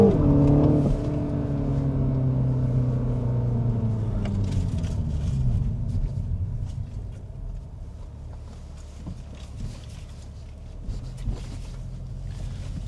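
The engine of a 2026 MINI Cooper S, a 204-horsepower front-wheel-drive car, hums with a low steady drone whose pitch falls and then settles into a lower cruising rumble.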